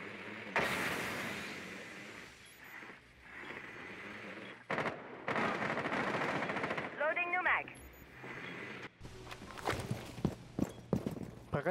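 Sniper rifle gunfire in the video game Rainbow Six Siege: sharp shots and rapid bursts crack out loud over continuous game noise and footsteps, with players' voices talking at times.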